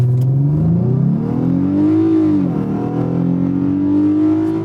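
A Lexus IS350 with all-wheel drive revs hard for a launch, its engine note climbing, dipping and climbing again in a loud, close, continuous roar with no talking.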